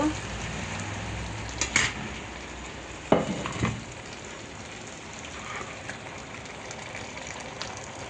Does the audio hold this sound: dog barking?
no